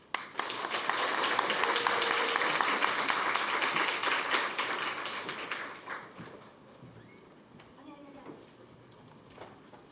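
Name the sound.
audience applause welcoming speaker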